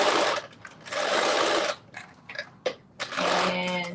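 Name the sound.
sewing machine basting stitch around armholes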